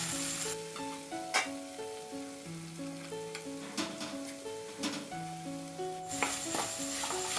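Cabbage sizzles in a pan with boiled potato pieces, a soft, steady frying hiss with stirring clatter, while quiet instrumental music plays underneath.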